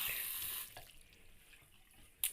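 Water gushes from a tap in a loud burst for the first moment, then drops to a softer trickle, with a brief splash near the end.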